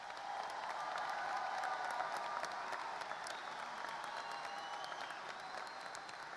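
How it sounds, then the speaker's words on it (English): A crowd at a high school graduation ceremony applauds honored valedictorians and salutatorians, a faint, distant, even wash of clapping that holds steady throughout. "Please face the crowd and receive a well-earned round of applause."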